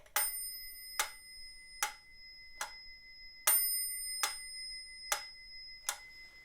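A metronome ticks at an even, moderate tempo, each sharp click carrying a ringing metallic tone and a brighter bell sounding on the first beat, quiet and alone.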